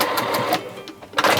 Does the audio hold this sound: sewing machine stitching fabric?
yes